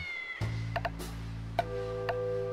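Cats meow in the video game Fort Meow: a few short, bright meows pop out over steady background game music, with light ticking clicks between them.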